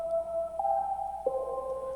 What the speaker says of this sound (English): So I'll show you that synth now